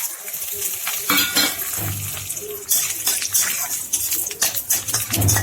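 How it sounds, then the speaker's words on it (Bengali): Black cumin, dried chilli and bay leaf fry in mustard oil in a pan, a bright continuous sizzle with scraping stirs of a utensil, close and fairly loud. "ফোড়নটা আমি লাল লাল করে ভেজে নেব"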